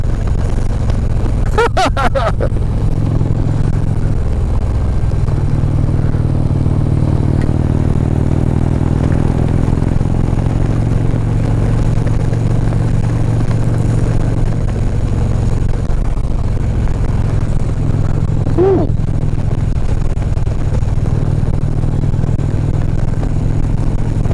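Motorcycle riding close in traffic behind a big dump truck, steady loud engine drone and road roar throughout, with brief clattering bursts near the start and again late on.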